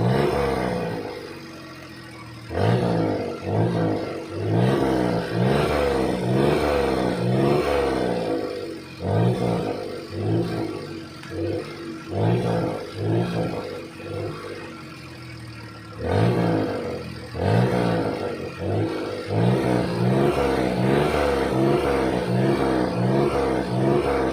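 A smoking car engine treated with Wonder Lube runs and revs repeatedly, rising and falling in pitch, loud and close, with brief lulls between bursts.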